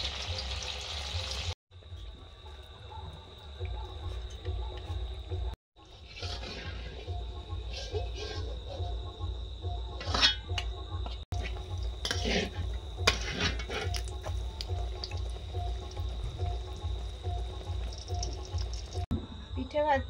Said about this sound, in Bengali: পিঠে ভাজছি